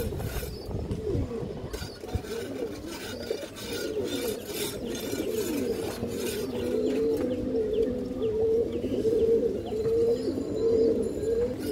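Pigeons coo in a repeated, soft, throaty rhythm, with a Kali Bagha female among them, close by amid rustling and scattered background clatter.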